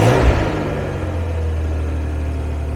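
Engine of a cheap tow truck after repair work, a steady close idle hum with a brief rev at the start that quickly settles, loud and continuous with no talk.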